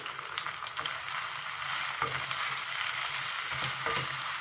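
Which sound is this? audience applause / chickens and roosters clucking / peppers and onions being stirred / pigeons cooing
peppers and onions being stirred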